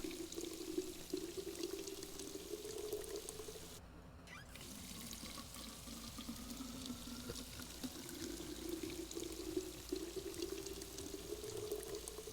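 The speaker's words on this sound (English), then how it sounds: "The only thing that takes a long time is filling these bottles of water." Water pours steadily into bottles in Drug Dealer Simulator, a soft continuous running stream with a brief break partway through, faint and alone.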